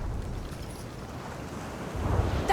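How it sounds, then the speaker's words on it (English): Ocean waves lapping at a bay in a video game, a steady low wash of water with a windy, rumbling texture that swells slightly toward the end. "I was listening to the waves"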